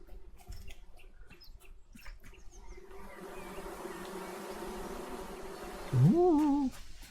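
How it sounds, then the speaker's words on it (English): Bees buzz in the video game Among Trees, a steady droning hum that builds over several seconds and swells into a louder, wavering whine near the end, with no talk. "Ah, bees! Bees!"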